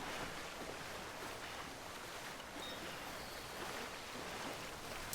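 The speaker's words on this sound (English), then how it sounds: "Just rushing through the water to get there." A character wades and rushes through water in Death Stranding, a steady broadband splashing and sloshing that stays loud and even throughout with no talk, ending on a brief louder splash.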